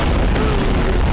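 A dense, sustained boom of several explosions merging into one rumbling blast in the video game Garry's Mod, loud and continuous with no talk.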